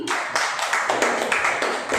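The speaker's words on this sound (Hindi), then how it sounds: "क्यों ना हम इस समय परमेश्वर के लिए ताली बजाए जोर से" A church congregation claps together in a steady, rhythmic beat during a Sunday evening service, with evenly spaced bursts of applause filling the room.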